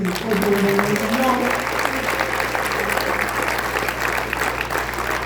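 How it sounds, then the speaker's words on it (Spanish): A church congregation in Guadalajara breaks into loud, sustained applause that fills the whole clip, with some voices and cheers mixed in at the start. "Dense un aplauso fuerte."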